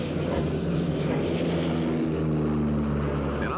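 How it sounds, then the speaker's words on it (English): An observation aircraft carrying an airborne forward controller flies overhead beneath low, descending cloud. It makes a steady, loud propeller-engine drone that holds continuously throughout with no other sounds. "observation aircraft with an airborne forward controller has been working with 2 Phantom jets under the rapidly lowering cloud cover"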